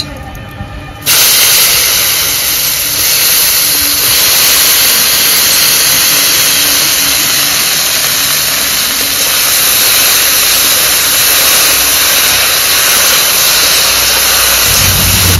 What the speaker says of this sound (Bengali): তেল গরম হয়ে গেছে, এবার আমি কচুটা ভেজে নেব।